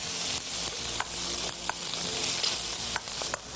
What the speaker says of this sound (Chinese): 爆炒一下。